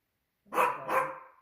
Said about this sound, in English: Is he barking that way or he barking at me?